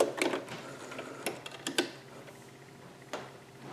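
Sewing machine back stitching a dress seam, giving a few quick, light ticking bursts of stitching with short pauses between, faint and close.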